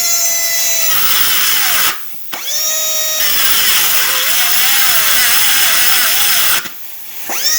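A Dedeco rotary moto tool runs under load in a stall test, a loud close high whine that bogs down and wavers, cuts out briefly, then spins back up before stopping again near the end.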